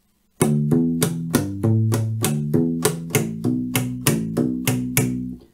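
U-Bass slapped with the thumb in a repeating pattern of punchy, ringing notes, about a dozen even strikes in groups of three, loud and alone.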